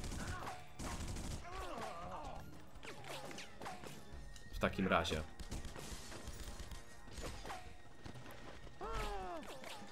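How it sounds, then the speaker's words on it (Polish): Bursts of gunfire and crashing impacts ring out in The Punisher video game, several sharp shots clustered near the middle, mixed with in-game voices and someone speaking over the action. "Tam słyszę jakieś strzały po prostu."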